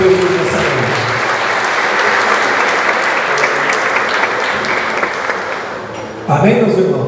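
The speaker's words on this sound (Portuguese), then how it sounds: "Aplaude bem forte o nome do Senhor Jesus nessa noite." A church congregation claps loudly and steadily in praise for several seconds, the dense applause easing briefly before a voice starts speaking near the end.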